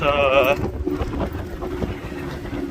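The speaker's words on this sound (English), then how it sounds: "oh my god, it's windy!" Heavy wind buffets the microphone with a low, rumbling roar that persists throughout, briefly overlapped by a high tone at the start.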